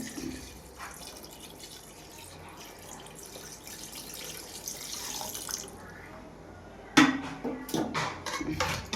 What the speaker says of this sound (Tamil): அடுத்த அளவு தண்ணீர் கொஞ்சம் ஊற்றிக்கலாம்